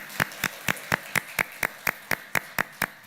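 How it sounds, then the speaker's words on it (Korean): A church congregation clapping together for members' birthdays during a Sunday service: a steady, evenly spaced beat of about a dozen unified claps, moderately loud and slightly roomy. "최성아 성도님, 우리 1월 생일을 맞이하는 우리 모든 성도들의 생일 축하하면서 한번 박수해 주시면 고맙겠습니다"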